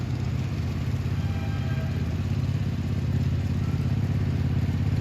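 A steady low engine rumble drones continuously at close range from an approaching model Baldwin diesel locomotive consist at a live steam club, a heavy diesel hum with faint rattling that holds level throughout.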